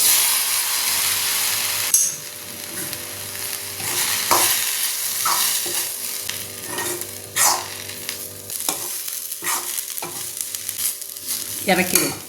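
Tomato frying in a pan for a fish curry, with a spoon stirring through it: a steady sizzle runs throughout, broken by repeated scraping strokes and clinks of the spoon against the pan, fairly close and with no one talking.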